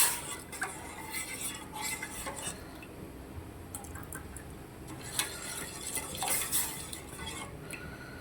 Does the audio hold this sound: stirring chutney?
yes